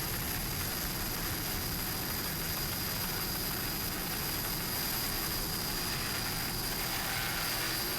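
Racing engine of the 38-foot Fountain powerboat What's Up roars steadily and loudly throughout, a constant dense drone with a high whine and no pauses.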